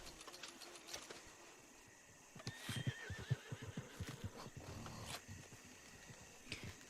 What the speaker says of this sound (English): I think Blueberry is my most skittish horse right now.